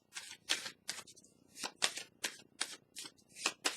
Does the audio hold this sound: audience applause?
no